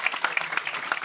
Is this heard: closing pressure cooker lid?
no